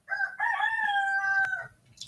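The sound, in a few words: rooster crowing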